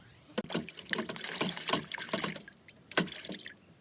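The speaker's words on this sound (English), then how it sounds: "let's take them around to the water hose and rinse it out a little bit" Running water splashes and trickles unevenly, with irregular spattering bursts, close by and moderately loud.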